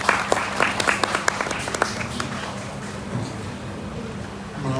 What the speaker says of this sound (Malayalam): സമ്മതമെങ്കിൽ എല്ലാവർക്കും ഒന്ന് ചെറുതായിട്ട് കൈയടിച്ച് ഒന്ന്